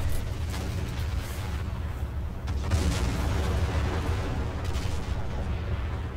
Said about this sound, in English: All I'm doing is spawning artillery and pummeling a position with it.